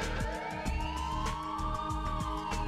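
Police sirens wail in the Spider-Man 2 video game, rising and falling steadily beneath thumping game music and effects throughout.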